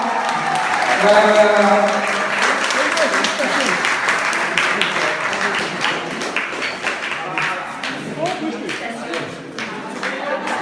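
Audience applause for the winning family at a cooking contest, crisp clapping from a nearby crowd that tapers slightly, with a voice speaking briefly over it.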